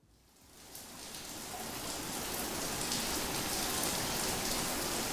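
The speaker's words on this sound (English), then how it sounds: "That doesn't sound like a shower. That sounds like rain." A steady shower of water pours down, hissing like heavy rain, starting softer and swelling to a constant rush.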